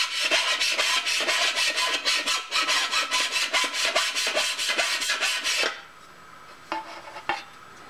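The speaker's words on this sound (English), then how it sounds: "We need to remove all of our burrs and possibly square up those corners." A hand file rasps back and forth over the corners of a metal part to clear burrs, a fast rhythmic series of close, loud scraping strokes that stops abruptly, followed by a couple of faint knocks.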